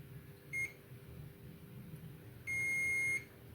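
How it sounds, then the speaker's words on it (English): Two multimeter continuity-test beeps: a short high tone, then a longer sustained one about two seconds later, over a quiet background hum. "Yeah, we're getting beeping"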